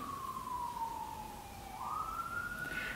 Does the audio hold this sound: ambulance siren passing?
yes